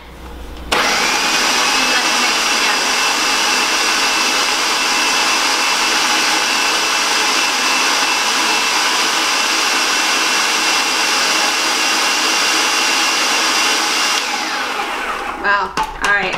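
A blender purees cookies for cake pops, switching on abruptly into a loud, continuous high-pitched whir that runs steadily for about fourteen seconds before cutting off with a few clunks.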